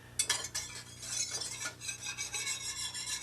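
Milk being stirred into tamale filling in a pot, a steady scraping and swishing of the spoon that runs the whole time, close and moderately loud, with no voices.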